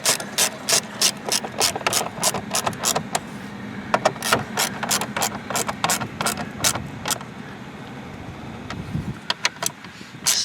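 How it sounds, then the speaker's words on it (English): A hand socket wrench ratchets bolts tight on a Dodge Charger, a long run of close, sharp, evenly paced clicks with brief pauses between strokes. "you can take your socket wrench and tighten them down"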